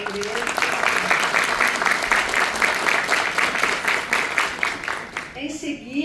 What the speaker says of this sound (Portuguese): uma salva de palmas para a Andressa